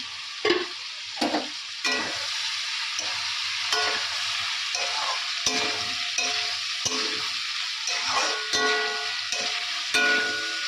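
Soybean chunks sautéing in a pan with a steady, close sizzle, broken by repeated scraping and stirring strokes of a spatula throughout.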